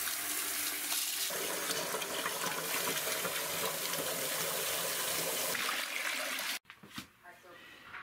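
Water from a bucket pours steadily and loudly for several seconds, then cuts off abruptly, followed by a few drips and splashes.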